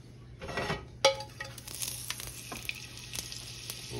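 Butter sizzling in a hot pan while making restaurant-style shrimp scampi, a close crackling hiss with a sharp metallic clink near the start and light scraping afterward.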